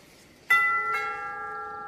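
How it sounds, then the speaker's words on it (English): A doorbell sounds two ding-dong chimes in quick succession, bright ringing tones that linger and fade slowly in a quiet indoor room. "Was that the doorbell again?"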